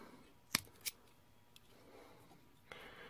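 Scissors snip twice in quick succession while a fly is tied, with sharp, close clicks and then a fainter cut near the end against a quiet background.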